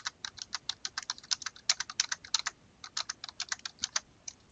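Quick, light key presses tap out an uneven run of numbers on a calculator keypad, each click crisp and close, with short pauses between bursts.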